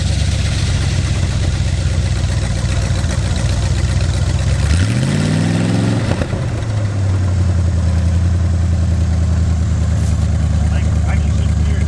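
An abandoned muscle car's engine runs after its first start in 35 years, a loud rough idle with a rising rev midway, while people talk over it.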